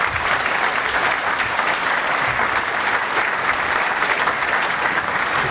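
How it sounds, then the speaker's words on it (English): An audience at a two-day summit applauds, with steady, dense clapping that holds at an even level throughout, close and loud, with no voices over it. "How about one more round of applause for all of your organizers for a great 2-day summit."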